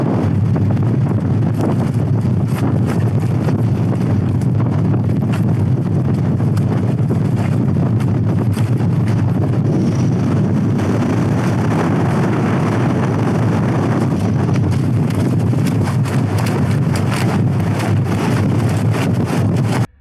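Wind gusts through a cold campsite, a loud, continuous roaring rush that buffets the microphone for the whole stretch, with no one speaking.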